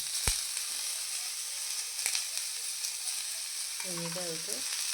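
A pinch of turmeric, asafoetida, cumin seeds and sesame seeds frying in hot oil for an amla chutney give a steady, close sizzle, broken by a couple of sharp pops and crackles.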